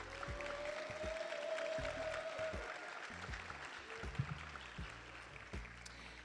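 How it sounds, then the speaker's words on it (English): Audience applause for Teacher of the Year candidates at a 2021 ceremony, a steady broadband clatter of clapping from a room of people lasting several seconds, with some background murmur. "I want you to give a round of applause for every Teacher of the Year candidate that is in here today."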